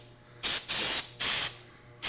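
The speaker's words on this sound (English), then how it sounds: "You can come in and kind of spray that out, clean out your throttle a little bit" Cleaner spray hits the throttle and choke of a pressure washer engine in three short, loud hissing bursts, separated by brief pauses, under a low steady hum.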